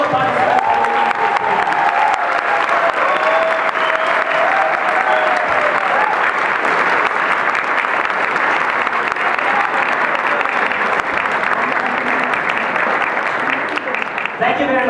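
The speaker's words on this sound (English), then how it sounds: "I would like all of you to give a big round of applause to all the participants." Sustained audience applause for the participants at a public event, a dense, steady wash of many clapping hands that stays loud and even for about fifteen seconds, with brief traces of a voice early on.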